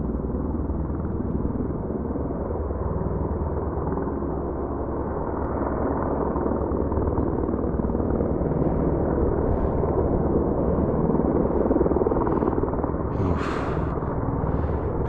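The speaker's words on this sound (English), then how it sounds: "that's what the roaring noise is anyway, because helicopters make that sort of noise" A helicopter touching down near a mountain landing site in Japan's Northern Alps, its rotor and engine producing a steady loud broadband roar that persists unchanged for the whole stretch.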